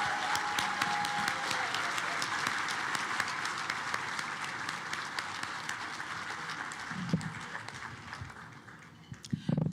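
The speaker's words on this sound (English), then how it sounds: "Let's give a big round of applause to Miss Janice Stockhouse and the Bloomington High School North Advanced" A large audience gives sustained, dense applause for the Bloomington High School North Advanced Jazz Ensemble at an evening of the stars event in 2019. The clapping stays steady and full for the whole stretch, with a few louder bumps near the end.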